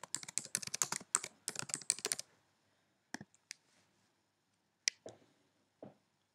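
Quick bursts of typing on a computer keyboard, close and crisp, a dense run of keystrokes at first and then a few scattered taps and clicks, with no talking.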